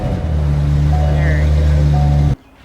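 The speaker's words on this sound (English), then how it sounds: "First McLaren 720 startup." McLaren 720S engine running loud and close with a deep steady idle drone and a slight rise in the middle, then cutting off abruptly to near silence.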